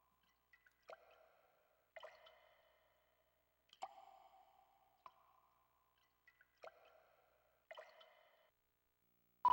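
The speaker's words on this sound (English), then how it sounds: "Drippy water sounds." Sparse, echoing water drips inside a dark warehouse in The X-Files on PS1, each drop a distinct plink arriving about once a second, quiet and alone in otherwise silent surroundings.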